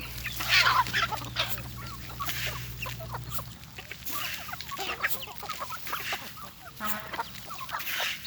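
Free-range domestic village chickens fed on unhusked rice cluck and call steadily nearby, with overlapping clucks and short squawks over a busy outdoor background and a low hum that stops partway through.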